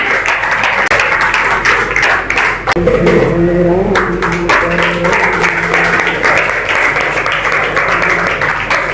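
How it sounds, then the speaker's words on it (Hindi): Audience applause at a Hindi poetry gathering (kavi sammelan) in Banaras, a dense, steady wash of clapping that runs the whole time, with a brief tonal voice or instrument sounding under it midway. "तो जिन्हें राम प्यारे है तो तालियां भी तो उस हिसाब से बजाएं भाई, तालियों में कमी क्यों?"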